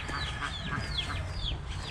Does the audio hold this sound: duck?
yes